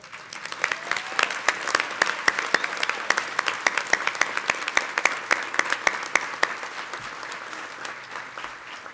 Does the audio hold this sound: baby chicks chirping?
no